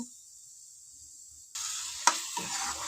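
Puliyogare gojju frying in oil is quiet at first, then bursts into a loud close sizzle with a sharp scrape as it is stirred and mixed.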